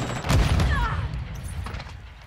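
Mortar strike explosions in a first-person shooter video game: a loud, heavy boom of rumbling impacts that swells early and then rolls on with scattered blasts and debris, fading slightly toward the end.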